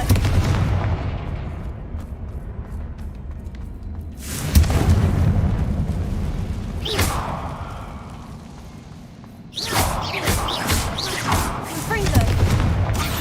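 Confringo blasting spells go off in Hogwarts Legacy, heavy booming explosions near 4.5 and 9.5 seconds with rumbling tails over a constant low battle din, plus scattered crackling magic impacts.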